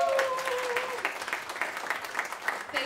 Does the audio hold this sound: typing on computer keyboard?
no